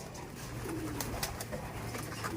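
Pigeons waiting to be fed make soft, low cooing calls against a steady hum of outdoor background noise, with faint clicks and rustles.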